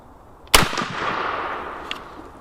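A single loud blast from a Black Aces Tactical shotgun with an 18-inch barrel, firing double-aught buckshot outdoors. A sharp crack is followed by a long rolling echo that slowly fades, heard alone.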